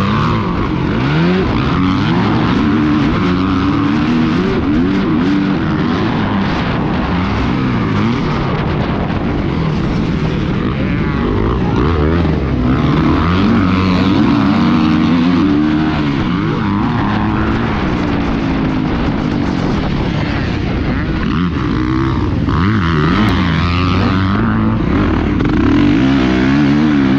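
A 250 motocross motorcycle races hard at a motocross event, its engine loud and close throughout, revving and shifting continuously with rising and falling pitch, no voices over it.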